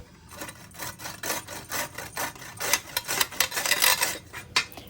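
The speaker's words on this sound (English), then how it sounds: "Next, grating the carrots. Just grate them, not very fine, not very thick, just medium" Carrots for gajar ka halwa, a carrot dessert, are grated to a medium shred, giving rhythmic close rasping strokes that grow quicker and louder.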